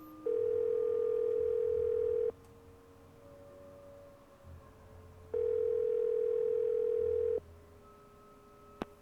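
Two long, steady telephone ringback tones sound on a call in a Nancy Drew game, separated by a quiet pause with faint background hum.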